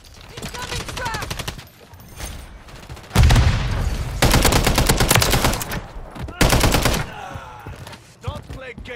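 Gunfire in a Modern Warfare 3 team deathmatch match: loud, dense bursts of rapid automatic shots, close and repeated, with brief pauses between volleys and heavy low-end thumps.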